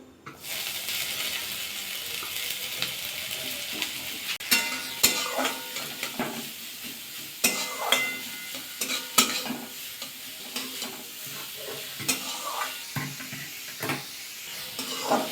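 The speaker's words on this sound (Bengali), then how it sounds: "ফুলকপিটা হালকা একটু ভাজা করে নিয়েছি" Grated cauliflower lightly fries in a pan while being stirred: a continuous sizzle runs under repeated scraping and clinking of a utensil against the pan, with no talking.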